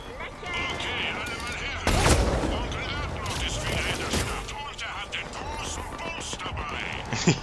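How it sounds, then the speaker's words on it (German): Gunfire in the video game Mass Effect 3, a dense fusillade of loud shots and booming impacts running throughout, with a sharp heavy burst near the start amid battle noise and characters talking over it. "Haben Sie den Schuss gesehen"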